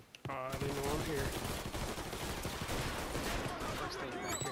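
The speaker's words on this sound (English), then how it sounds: "That's a lot of gunfire. A lot of gunshots going on out there." Dense, continuous gunfire with rapid bursts and scattered shots rattles on throughout, sounding like a battle heard from a moderate distance, in the video game Mafia 3.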